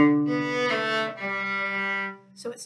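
Solo cello playing a short orchestra-method phrase, the pickup into measures 42 and 43, with sustained bowed notes rising and falling before a brief stop near the end, close and clear with no talk.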